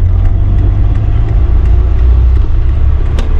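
A 1989 Peugeot 205 1.1 XL three-door pulling in third gear, a dense low engine rumble heard from inside the cabin, steady and loud throughout with no talking.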